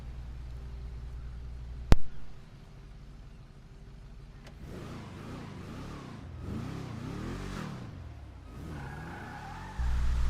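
Bravado Greenwood car in GTA 5 Online, a 1977-1978 Dodge Monaco style car with a 3-speed gearbox: a sharp click, then the engine revs up and cycles through rising and falling pitch sweeps as it accelerates through gears, moderately loud and alone.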